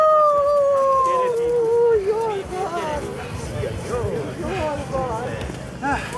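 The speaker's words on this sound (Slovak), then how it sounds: "Tak, pes!" A dog at a race start lets out a long, loud rising-and-falling howl, then yelps and whines in shorter wavering cries while voices talk in the background.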